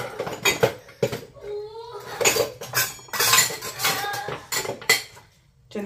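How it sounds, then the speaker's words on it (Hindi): Dishes washed by hand in a home kitchen: repeated clinks and clatters of cutlery, plates and pots knocked together at close range, irregular and busy, with water running softly between the knocks. "चले जी बर्तन धो के मिलती हूँ"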